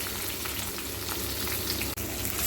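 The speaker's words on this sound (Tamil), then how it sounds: "எண்ணெய் சூடானது கடுகு போட்டுக்கிறேன் கடுகு கருவேப்பிலை கொஞ்சம் போட்டாச்சுங்க" Mustard seeds, curry leaves and onions fry in hot oil in a clay pot for a kara kuzhambu. A loud, continuous crackling sizzle runs throughout with no talk over it.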